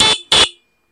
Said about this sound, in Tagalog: So, stock horn,